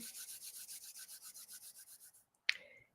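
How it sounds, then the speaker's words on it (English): Hands rub briskly together in a steady rhythmic back-and-forth, close and fairly soft, ending after about two seconds with a single sharp clap-like smack and brief ring. "Rub your hands together."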